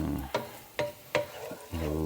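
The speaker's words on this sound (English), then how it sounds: "just going to add that garlic to our onions. Let that cook for around not even a minute" Garlic added to onions in a pan over a low flame, a soft steady sizzle broken by a few sharp scraping stirs at regular intervals, close and fairly quiet.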